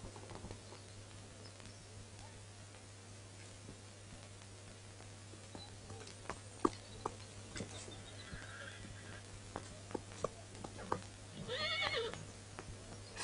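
A white horse neighs in a historical drama set at a Bulgarian khan's court, a faint whinny heard over a low steady hum, with soft scattered clops and no talk.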